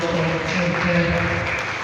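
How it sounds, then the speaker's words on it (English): Audience members at a national nursing conference in Asaba applaud, a brief dense wash of clapping heard up close with talk mixed in. "A round of applause for Dr."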